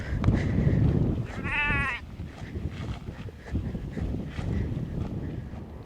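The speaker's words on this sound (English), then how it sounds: "here's the sheep" A sheep gives a single clear, wavering bleat outdoors, close by, amid strong wind buffeting the microphone and faint background noise.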